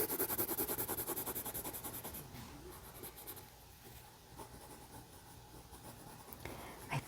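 Colored pencil scratching across paper while shading a drawing of a yellow apple, a rhythmic back-and-forth rubbing at first that softens into lighter, uneven strokes, close and fairly quiet with no voices.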